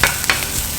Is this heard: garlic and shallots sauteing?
yes